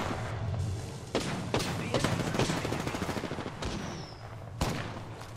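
Apex Legends gunfire, with bursts of shots and a few sharp louder cracks over a dense, noisy battle backdrop.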